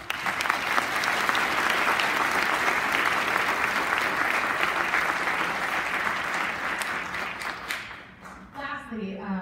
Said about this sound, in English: She deserves her own round of applause.